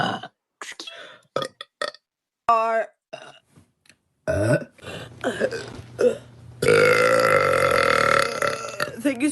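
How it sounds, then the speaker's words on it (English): A girl lets out several burps, short ones first and then a long, loud, drawn-out belch near the end, with people talking between them. "Are you guys ready for the burp?"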